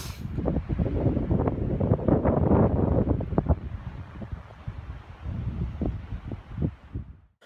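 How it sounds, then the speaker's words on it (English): Strong, gusty wind on a mountain trail near Dick's Pass on the Tahoe Rim Trail buffets the microphone with loud, roaring bursts that rise and fall throughout, with no talking. "Still windy as all hell."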